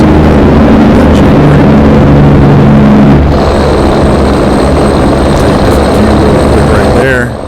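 A semi truck's Jake engine brake in American Truck Simulator gives a loud, continuous low rumble with droning harmonics. The tone shifts partway through as the engine revs drop, and it stays steady and close throughout.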